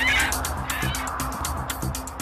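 Chickens cluck and squawk in a busy, overlapping chorus, with short repeated calls and a rustling bustle of birds close by.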